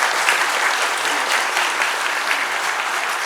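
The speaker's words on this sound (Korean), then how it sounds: "문정희 교수님께 다시 한번 박수 부탁드립니다" An audience claps for a professor at a political party lecture event in Seoul, a dense, even round of applause holding at the same level for about three seconds without pause.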